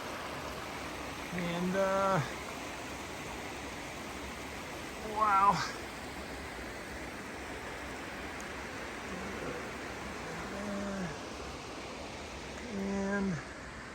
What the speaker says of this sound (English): here's the top of that waterfall